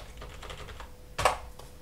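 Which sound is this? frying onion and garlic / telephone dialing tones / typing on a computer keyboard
typing on a computer keyboard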